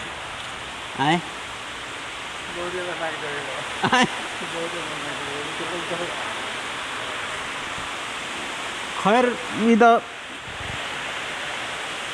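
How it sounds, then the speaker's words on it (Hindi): Heavy rain falling outdoors as a steady, loud broadband hiss throughout, with someone speaking in short bursts over it. "ऊपर पानी पानी हो गल बाटे अंदर बहुत तेज़ बारिश होता"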